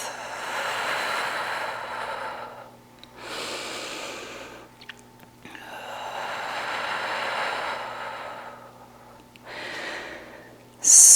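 Slow, heavy breathing during a pilates workout with weights, long drawn-out inhales and exhales alternating with short pauses, close and clear with no talking.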